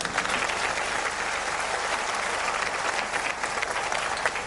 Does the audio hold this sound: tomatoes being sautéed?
no